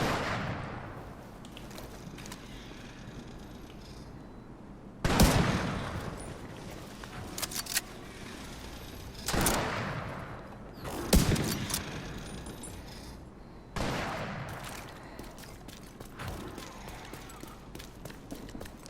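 Sniper rifle shots in a video game, roughly five loud, sharp reports spaced a few seconds apart over steady background game noise.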